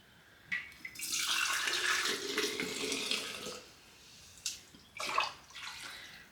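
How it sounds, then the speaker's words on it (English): Homemade chicken bone broth poured into canning jars, a close liquid splashing and gurgling stream for a few seconds, tapering off with a couple of short pours and clinks at the end. "Alright, so now we're going to go ahead and fill up our jars."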